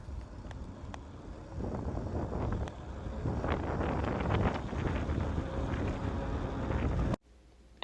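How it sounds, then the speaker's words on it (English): A Pexmor 36V 1000W electric bike on a Genesis frame accelerates on throttle alone, a rising rush of motor whine and wind buffeting the microphone for about seven seconds before cutting abruptly to near silence. "And now here's acceleration of 36 volt in throttle only."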